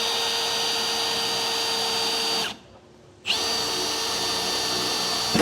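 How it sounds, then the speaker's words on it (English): A power drill with a small bit bores a pilot hole in a 2021 Chevrolet Silverado bed for a gooseneck hitch, giving a loud, steady whine close by that stops briefly, then resumes at full speed. "I'm going to make a pilot hole with a smaller drill bit right on our center of our hole here."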